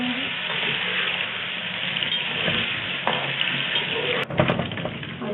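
Potatoes frying in oil in a karahi for Afghani aloo karahi, a steady dense sizzle throughout, with a few faint clinks of utensils near the end.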